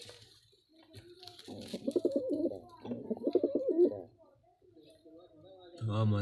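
Domestic pigeons, a blue pigeon and a black lakka, coo beside their eggs. Two long rolling bouts of soft, throaty cooing sound close by in a quiet setting, and a low sound comes in at the end.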